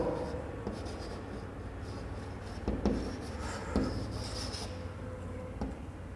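Marker or chalk scratches on a board during a maths lesson on surface area and volume, soft scraping strokes and taps running continuously at close range under a quiet room tone.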